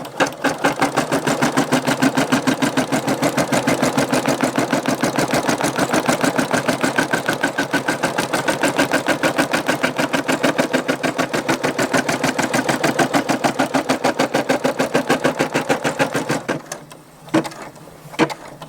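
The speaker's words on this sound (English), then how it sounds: "This is called a tack down stitch." A Brother SE625 embroidery machine runs a tack down stitch for an applique patch, its needle hammering in a fast, steady, loud rhythm for about sixteen seconds before stopping, followed by a few faint clicks.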